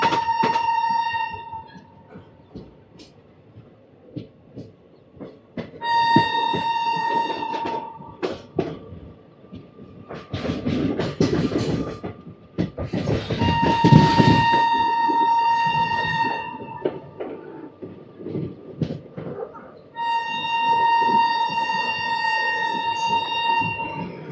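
A Bikaner Superfast Express train pulling out of a desert station, with repeated loud horn blasts over steady rumbling and clattering of the moving coaches, interspersed with voices nearby.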